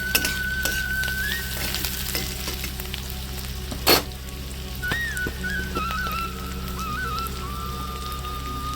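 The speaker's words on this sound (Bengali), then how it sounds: "নাড়িয়ে হালকা করে ভেজে নেব।" Chopped capsicum and mixed vegetables stirred and lightly fried in a village kitchen pan, a steady close sizzle with spoon scrapes and one sharp clatter midway, no voices.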